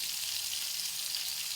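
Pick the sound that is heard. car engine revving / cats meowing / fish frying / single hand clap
fish frying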